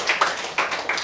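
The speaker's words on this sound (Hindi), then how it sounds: "ताली बजाइए भाई इनके बारे में" A short burst of audience applause in an indoor coaching class, with several sharp, close claps at an uneven rhythm over about a second.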